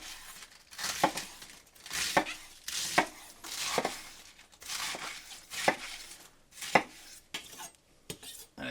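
A Piklohas kitchen knife chopping in a steady rhythm, about eight crisp, close strokes roughly a second apart, with no voices.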